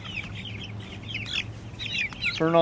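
A small chicken being handled and weighed clucks in short, repeated near calls, with a sharper squawk at the end and light handling noise beneath.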